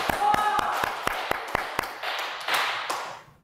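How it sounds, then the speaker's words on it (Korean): A church congregation at a Wednesday worship service gives a short burst of clapping, sharp claps ringing out in a roomy hall, briefly swelling before fading away. "박수"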